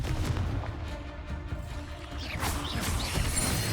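Confringo fire-blast spells go off in the video game Hogwarts Legacy as dense, overlapping booms and crackling impacts. They build in a loud, continuous barrage of explosive hits, with no voice on top.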